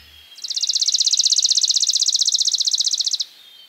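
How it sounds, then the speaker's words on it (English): A dark-eyed junco delivers a long, steady musical trill of rapid identical high notes lasting nearly three seconds, loud and close, with no other sounds around it. "the dark-eyed junco"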